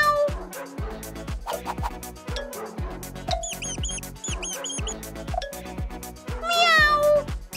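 A cartoonish meow, likely a voice imitating a cat, rises over bouncy music with plucked notes and bright chimes, loud and close.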